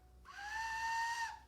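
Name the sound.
small wooden Star Wars whistle blown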